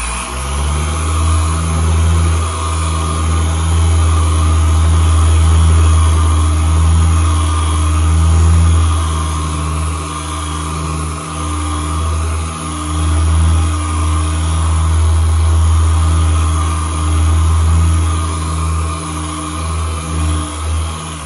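A polishing machine set to 4,800 RPM works a spot on the paint of a dirty 1973 Corvette, giving a steady, loud motor hum that holds for the whole stretch with slight swells in level and no talk.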